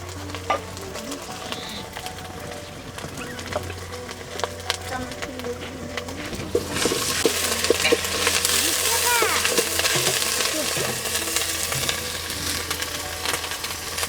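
Garlic, ginger paste, and cumin sizzle in pure mustard oil in a kadai, with a steady frying hiss that surges louder halfway through as more goes into the pan, stirring clatter mixed in.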